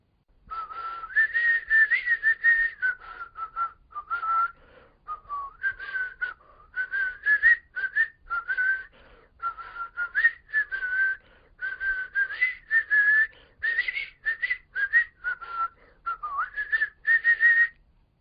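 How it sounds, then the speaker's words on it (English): Someone whistles the lively melody "Come, Lasses and Lads" alone, phrase after phrase with short pauses, clear and close. "He was whistling, "Come,"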